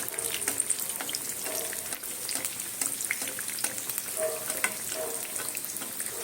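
A Mughlai paratha fries in oil, giving a continuous crackling sizzle close by, with small spatters and pops as more oil is sprinkled over it.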